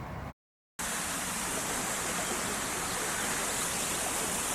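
A waterfall at Zilker Botanical Garden pours in a steady, dense broadband rush with no talking, after a brief silent gap at the very start.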